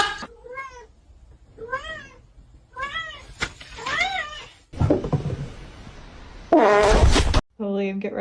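A kitten meows several times in a row, with short rising and falling cries spaced about a second apart. Later come louder bursts, and some of the cries sound like a human voice imitating the kitten.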